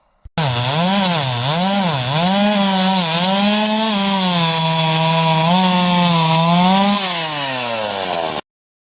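A chainsaw cutting wood runs loud and close for about eight seconds, the engine pitch rising and falling in waves as it bogs and revs through the cut, then cutting off abruptly.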